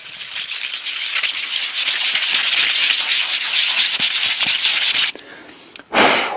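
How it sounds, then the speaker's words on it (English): Abrasive sanding scuffs the black textured surface of an inflatable boat, a loud continuous rasping rub for about five seconds, then a brief pause and one short final stroke. "We'll just do a quick scuff of it so you can see what it would look like on the black."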